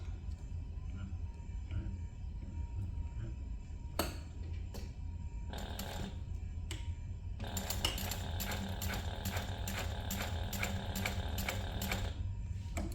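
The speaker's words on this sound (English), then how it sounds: "we're going to top stitch down each folded edge of this using a 1/8 inch seam allowance" A sewing machine top-stitches the folded edges of a fabric bag, short mechanical bursts and clicks giving way to a steady run of rapid needle strokes toward the end.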